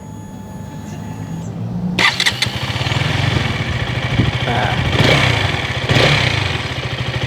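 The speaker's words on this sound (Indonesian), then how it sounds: "kurang lebih suara mesinnya seperti ini, dan motor ini menggunakan model knalpot underbelly." A KTM Duke 200 motorcycle with an underbelly exhaust starts up and runs at a steady, throbbing idle nearby, with brief revs rising and falling; a voice speaks briefly at the start.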